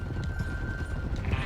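Horse hooves clip-clop steadily with a brief whinny in Red Dead Redemption 2, the galloping rhythm loud and close over a low rumble, a faint steady tone running through.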